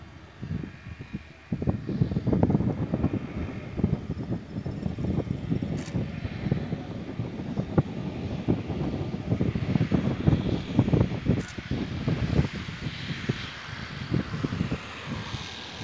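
An airliner on Azul flight 4378 approaches the airport and goes around, its distant engine drone rising and falling under gusty wind buffeting for most of the span.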